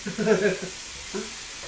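Food stir-fried with ginger in an electric fry pan sizzles with a steady hiss, broken by a short burst of stirring near the start and another brief scrape later, while a voice talks over it.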